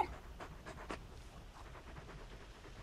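Torgal, a large dog in Final Fantasy 16, panting softly in quick, steady breaths at a low, faint level against a quiet background.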